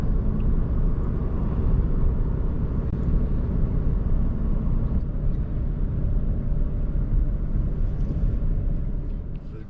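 A car rolls through the small town of Custer, South Dakota, giving a continuous low road rumble and engine drone from inside the cabin, steady throughout and easing slightly at the end.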